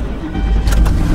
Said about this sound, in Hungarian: ez egy 4600 köbcentis benzines V-motor